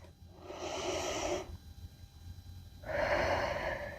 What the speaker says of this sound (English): One more round of breath.